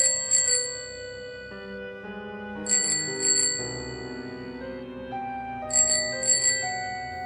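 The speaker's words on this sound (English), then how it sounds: "The only answer was another series of bell rings," A bicycle bell rings in three distinct bursts of quick double dings, spaced a couple of seconds apart and coming closer, set against a soft sustained musical background.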